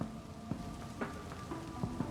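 Steady rain patters in an adventure game scene, a soft continuous hiss with faint droplet ticks and occasional brief tones from the game's soundtrack, no one talking.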